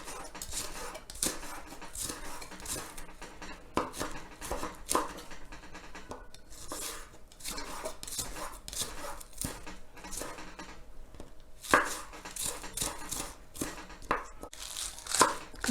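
Vegetables for traditional kimchi being finely chopped with a knife on a board, producing quick, irregular close taps and thuds in bursts with short pauses, fairly quiet and without talk.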